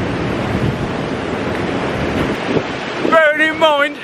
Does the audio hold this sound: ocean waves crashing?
yes